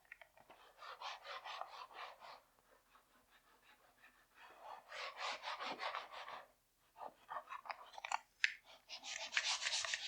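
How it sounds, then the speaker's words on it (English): Repeated rhythmic scraping of sandpaper on drywall corners, in bursts of back-and-forth strokes separated by short pauses, fairly close and soft. "I'm just sanding, trying to get these corners sanded right off."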